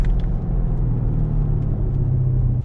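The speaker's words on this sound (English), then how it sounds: "I'm gonna downshift into this corner." A 2017 Chevrolet Camaro 2SS convertible with its V8 engine downshifting into a corner, a steady low rumble from inside the car with a slight rise in revs, no talking.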